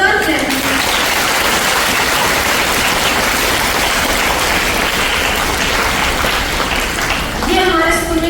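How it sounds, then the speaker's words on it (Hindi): Loud, dense applause from the audience at a school ceremony, a continuous roar of many hands that holds steady throughout, with a voice briefly heard at the start and end. "एक बार इनके लिए जोरदार तालियां"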